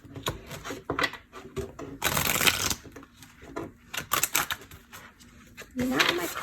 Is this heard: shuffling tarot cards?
yes